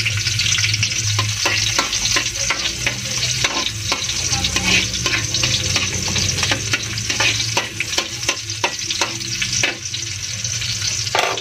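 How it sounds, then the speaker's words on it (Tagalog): Garlic sautés in hot oil in a heated pan, a dense, steady sizzle lasting throughout, with frequent clinks and scrapes of a utensil stirring close by. "gisayin natin yung bawang"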